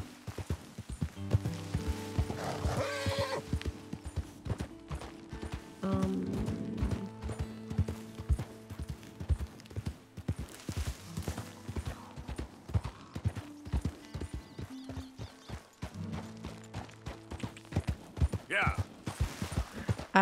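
Clip-clop of horse hooves from Red Dead Redemption 2, steady rhythmic footfalls under in-game music and ambient sound, with a whinny near the end.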